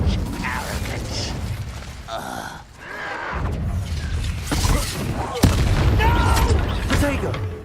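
An Incendio fire spell cast in Hogwarts Legacy on PS5, a loud whooshing burst amid dense game combat effects and booms, with a grunt or gasp, continuous over about eight seconds.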